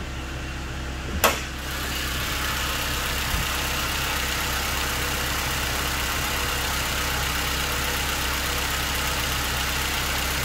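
A Toyota-built four-cylinder engine in a 2011 Scion tC idles steadily with a close, even hum, after one brief sharp click near the start.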